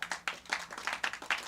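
A live audience at a blues music show in a showroom claps in a short burst of scattered, fairly faint applause.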